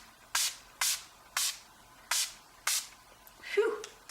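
Five short hissing bursts of Urban Decay All De-Slick makeup setting spray misting in an even rhythm, close to the listener, followed by a soft exhale.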